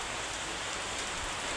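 Rain falls in a dense, even hiss of drops on surfaces, steady and unbroken throughout, with no voices.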